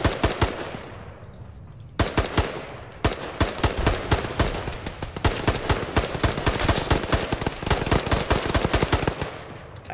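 Rapid, loud automatic gunfire in the Operation Flashpoint video game, bursts of closely spaced shots with brief pauses, continuing nearly without letup.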